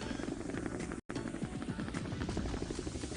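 A helicopter filming a cycling race at Tempelhof Airport throbs with a steady, loud rotor beat and engine drone throughout, broken only by a brief cut.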